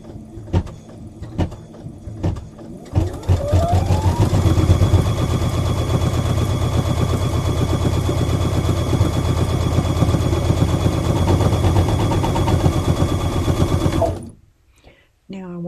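A home sewing machine in a design center stitches backing onto a beginner mug rug, starting with a few hand-turned thumps before settling into a loud, steady, rapid mechanical hum and then stopping abruptly near the end.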